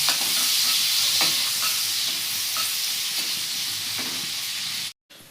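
Onions sizzle steadily in hot oil in a wok over low gas flame, a continuous close hiss with a few soft stirring clicks, cutting off abruptly near the end.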